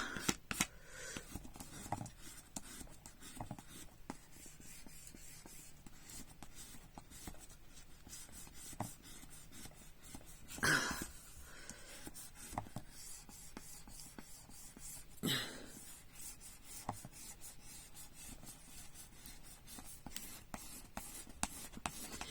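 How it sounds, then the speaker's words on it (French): Glued paper pressed down by rubbing for a handmade mini album: a steady dry scratching and rubbing of fingers or a tool over paper, quiet and close, with a few louder swipes scattered through. "maintenant, je vais coller en poussant"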